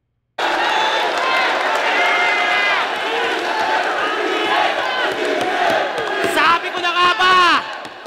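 A rap battle crowd roars and shouts continuously, loud and dense, surging into sharper yells and whoops near the end, with voices blended into the din.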